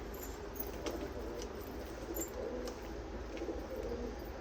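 Pigeons coo softly in a loft, low and fairly faint, with a steady background hiss and occasional light chirps.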